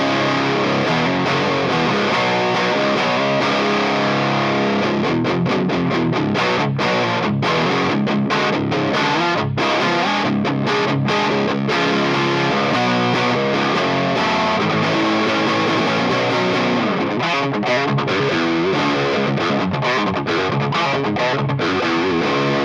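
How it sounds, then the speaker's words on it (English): Heavily distorted electric guitar roars through a Hayden Mofo Series amplifier, bridge pickup at full volume, loud and continuous, with chugging palm-muted stops and sustained chords, no voices. "that's generally the sound of the amplifier, with bridge pickup just turned all the way up"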